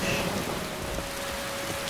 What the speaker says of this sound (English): A walk in the rain.